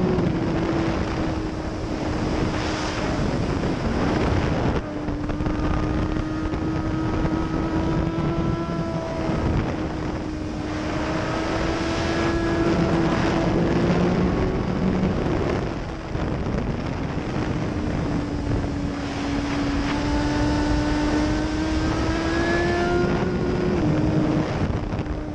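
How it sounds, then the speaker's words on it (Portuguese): A Suzuki GSX-R1000 sportbike engine, 202 horsepower with a redline near 14,000 rpm, drones and climbs repeatedly through the revs under heavy, continuous wind buffeting while riding. "Essa moto aqui ela gira até 16."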